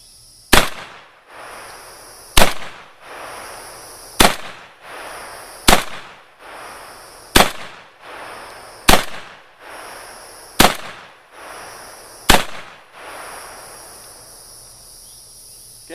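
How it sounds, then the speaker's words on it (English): A Remington Versa Max tactical shotgun fires buckshot down an outdoor range, eight loud, sharp blasts coming at an even pace about every one and a half to two seconds, each one trailing off into a short echo. "it's loaded up for 8 shots, so I'm going to wheel off, sling some buckshot down the range"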